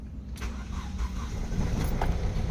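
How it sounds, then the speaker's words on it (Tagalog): A Toyota Altis with a 3ZZ engine cranks and catches, running briefly with a steady low rumble before it dies, heard close and alone with no talking. "Engine start."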